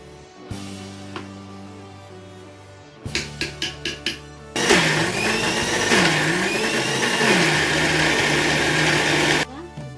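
An Indian mixer grinder blending mirchi tomato chutney: a low hum first, then several short pulsed bursts, then a loud sustained whirring grind that wavers in pitch before cutting off.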